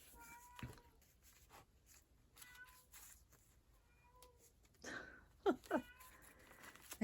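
A house cat meows indoors several times, short close cries toward the end with softer rustling and faint sounds earlier.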